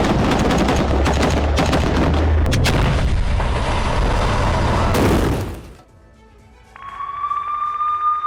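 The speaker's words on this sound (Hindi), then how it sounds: "उत्तर से दक्षिण गाजा तक इजरायली बमबारी" Israeli bombardment in Gaza: loud, dense rumbling blasts and rapid cracks of artillery fire roll on continuously, then fade abruptly into near quiet before a thin steady tone begins.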